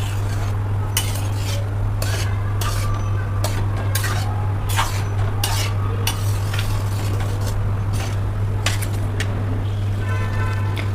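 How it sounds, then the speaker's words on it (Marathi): Pav bhaji vegetable mash being stirred in a pan, a steady thick scraping and squelching with repeated sharp utensil knocks against the metal, close and continuous over a constant low hum. "यामध्ये गरजेप्रमाणे मीठ टाकायचं आणि भाजी छान हलवून घ्यायची"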